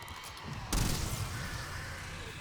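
Gunfire in Black Ops 7 Zombies, a sudden loud burst of shots that trails into a rumbling tail under faint game ambience, heard alone without talk.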